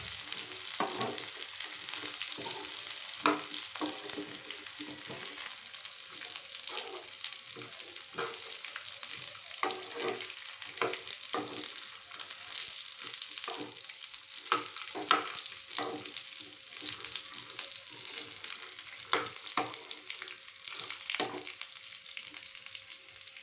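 Peanuts roast in a hot pan over a low flame for peanut chutney, giving a steady close sizzle broken by repeated sharp scraping clicks as they are stirred and turned, with no talking.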